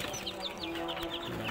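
Chickens cluck softly and repeatedly nearby in a coop at night, short chirpy calls over a low background hum.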